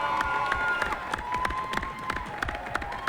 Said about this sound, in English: So I want to give Sheridan a round of applause.